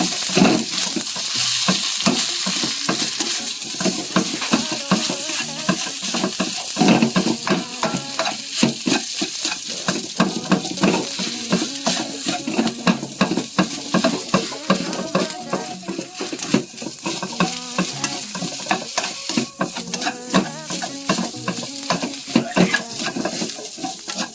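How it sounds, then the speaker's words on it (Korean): Rice being stir-fried in a pan with basil pesto mixed in, giving a steady close sizzle with continuous scraping and stirring clatter of a utensil against the pan throughout. "이게 밥 볶아서 거기다가 바로 저 페스토만 섞어주면 돼요"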